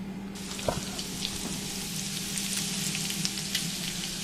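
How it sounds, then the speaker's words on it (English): Bacon sizzling and spitting in a pan as part of a venison loin steak dish, a dense crackling hiss that starts abruptly and carries on steadily with scattered sharper pops, no talk. "we've got our bacon going now"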